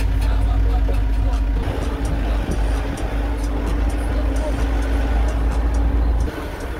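Car engine droning steadily close by as it drives behind a group, with people talking over it; the rumble drops away near the end.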